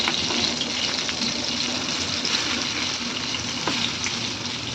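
Food frying in a pan for a Bengali home-cooked dish, a steady close sizzle and crackle of hot oil that continues unbroken, with no voices.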